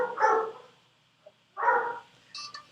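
A dog barks close by: two loud, separate barks about a second and a half apart, then a softer yip, with nothing else heard.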